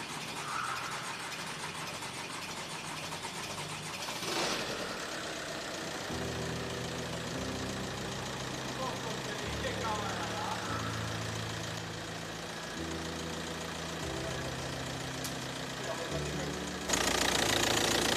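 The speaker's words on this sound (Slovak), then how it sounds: "povedz nám, ako si myslíš, že motor teraz vrčí" A 2.0 TDI diesel car engine starts and then idles with a steady, slightly knocking rumble, close and continuous, while people talk over it.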